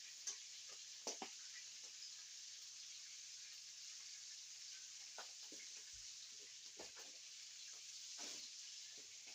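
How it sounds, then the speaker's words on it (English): Chicken hearts frying in oil in a pan, a steady broadband sizzle running throughout with occasional small pops and ticks, close and fairly faint. "You hear that oil boiling? Man, that's frying pretty good."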